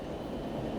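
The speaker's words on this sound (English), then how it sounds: "Here comes the train." A train sound effect, a short steady rumbling roar of a passing train, loud and continuous with no talking.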